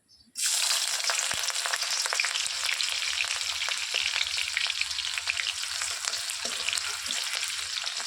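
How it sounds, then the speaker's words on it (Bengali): Chopped onions hit hot oil in a pan with a sudden loud sizzle that settles into a steady, crackling fry, up close, with faint stirring and no talking. "তেল গরম হয়ে গেল, এখন দিয়ে দেব পেঁয়াজ কুচিগুলো।"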